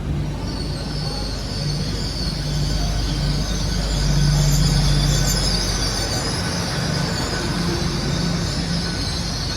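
A train on the Heart of Wessex line pulls out of Westbury station with a steady, loud rumble and high wheel squeal that builds slightly midway, heard close from on board with no talk.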